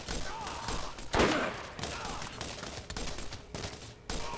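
Rapid gunfire in the Borderlands video game, a burst of loud shots with a heavier blast near the start and sporadic bursts following, mixed with faint game ambience.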